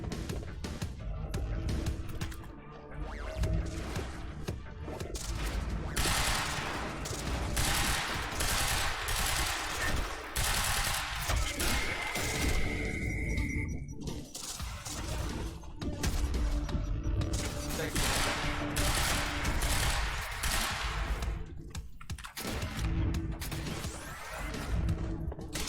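Assault rifle fire in the game Quantum Break, rattling in repeated bursts amid crashing impacts and mechanical clatter, fairly quiet overall but steady across a long combat stretch.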